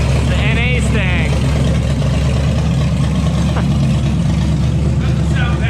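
A naturally aspirated Ford Mustang idles with no exhaust fitted, giving a steady, loud, lumpy low rumble that continues throughout while people talk nearby.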